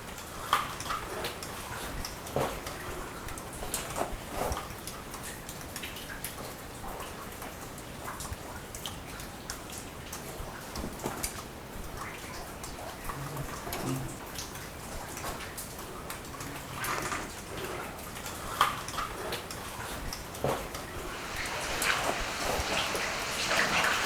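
Water trickles and drips steadily along a cave stream in a passage near the village of Phlangkynshi, a continuous close splashing texture with scattered ticks and drops, no talk.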